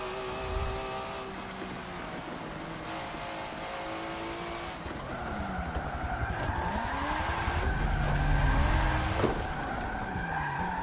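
Car engine in Forza 7 revving and whining through gear changes while drifting around a turn, with tire squeal and rising engine roar toward the end, steady and fairly close.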